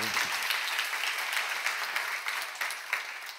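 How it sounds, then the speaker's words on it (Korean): A church congregation at a seminar applauds together, producing a steady, dense wash of many hands clapping that holds for a few seconds in a large indoor room. "박수 하세요."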